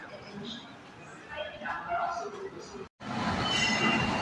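The Brindavan Superfast Express passenger train from Bangalore to Chennai rumbles steadily with broad rushing noise and faint talk, briefly cutting out before the roar resumes louder.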